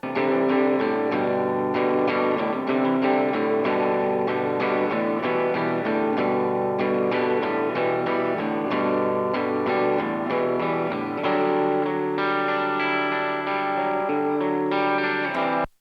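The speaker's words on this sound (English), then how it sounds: "here is what the first guitar track sounds soloed" A distorted electric guitar chugs steady rhythm chords alone, dense and continuous, with a chorus-like shimmer, stopping abruptly at the end.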